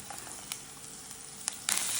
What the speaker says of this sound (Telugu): ఈ పప్పులన్నీ కొంచెం గోల్డెన్ బ్రౌన్ వచ్చే వరకు వేపుకుంటాం.